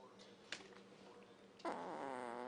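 A fart sound effect played during a live talk show, a short burst near the start followed by a louder, sustained buzzy tone lasting to the end, with faint background noise.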